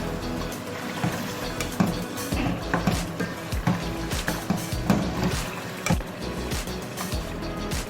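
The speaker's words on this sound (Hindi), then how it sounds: "थोड़ा सा इसके अंदर पानी डालूंगी" Water is poured into a pan of kaleji masala, a liver curry cooking on the stove, giving a continuous sizzling and splashing hiss with scattered crackles and pops close up and no voices.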